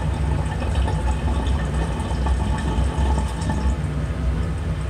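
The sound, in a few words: water gurgling through lab apparatus tubing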